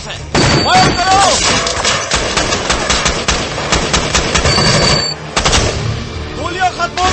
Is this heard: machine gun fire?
yes